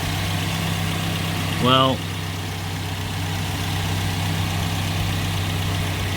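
A car engine, started with a portable jump starter, settling into a steady idle, a continuous low hum and vibration that runs throughout with a short spoken word partway in.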